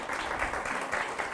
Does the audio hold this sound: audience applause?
yes